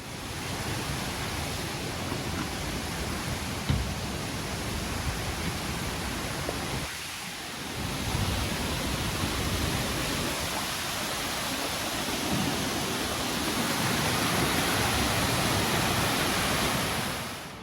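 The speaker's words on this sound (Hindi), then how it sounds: "बगल में बह रही है अपने पिंडर नदी" The Pindar river rushes beside a mountain forest trail, a steady broadband roar of flowing water that stays constant throughout, with a faint thump partway and no voices.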